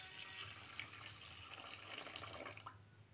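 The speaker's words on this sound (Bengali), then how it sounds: "তারপর এই ডালের মধ্যে জল দিয়ে দিচ্ছি।" Water poured into a bowl of biuli dal lentils, a faint, steady trickling and splashing that stays quiet and close throughout.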